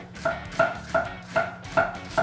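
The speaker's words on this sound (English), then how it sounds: "we'll just cut these into similar sized strips as the daikon and carrot" A knife chops steadily through vegetables on a cutting board, six crisp, evenly spaced cuts close by with no talking.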